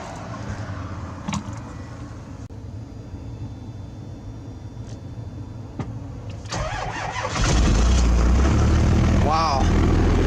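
A first-gen Cummins diesel truck cold starting at 13 degrees, a long grinding crank that catches into a loud rumbling idle, close by, with faint voices early on.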